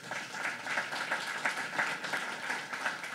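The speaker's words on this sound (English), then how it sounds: "if we could have a round of applause for all them" An audience at a manufacturing forum claps for a few seconds, a moderate, steady patter of many hands with a faintly rhythmic pulse.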